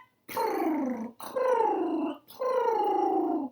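A voice imitates a cat purring with three long, rolling, downward-sliding purrs separated by short pauses, close and clear.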